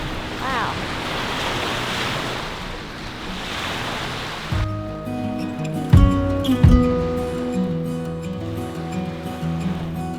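Waves washing onto a Lake Tahoe beach in cold weather: a steady broad surf hiss with wind across the microphone, then a tonal hum and a few thumps over the wash.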